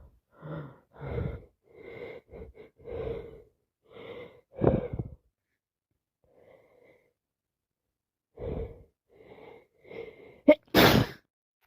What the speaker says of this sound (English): All I'm doing is sneezing and sneezing.